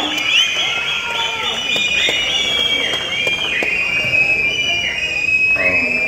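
A large audience at the Garudan film audio launch cheers steadily, with piercing whistles cutting through the sustained crowd roar as Sasikumar is invited to the stage.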